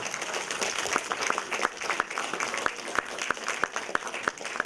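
An audience at a Udmurt Grandmother's Day festival in Moscow breaks into dense, sustained applause, many hands clapping steadily with a few sharp individual claps standing out.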